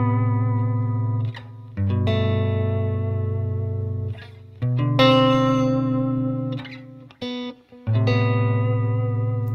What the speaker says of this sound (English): And when you play them on the lower register of the guitar, especially with a warmer sound like this